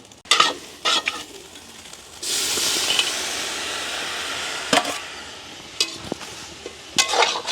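Onions, tomato, curry leaves and green chillies sauté in a home-cooked pan, a steady close hiss of frying broken by sharp scraping stir strokes at the start and again near the end.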